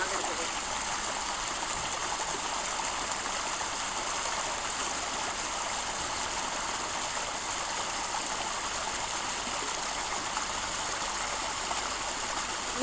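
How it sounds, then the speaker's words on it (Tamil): Rainwater pours down a hillside near Perambalur in a steady, loud rush of flowing water that holds unbroken and close for the whole stretch, with no clear voices over it. "இது ஃபுல்லாக மழை தாங்க மலையிலேருந்து பாருங்கள் ஒரு மூலையில் இருந்து தண்ணி வருது"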